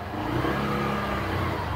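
A motorcycle engine with a check engine light fault runs and revs steadily at close range, a continuous mid-pitched engine drone with no talk.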